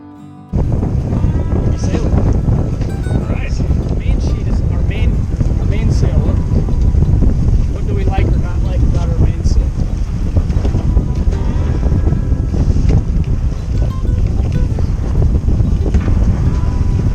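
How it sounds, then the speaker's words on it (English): Steady wind and water rush around a sailboat as its jib is unfurled, a continuous loud broadband roar with flapping and creaking bursts throughout and no clear voices. "Mainsail up, it's time to unfurl the jib"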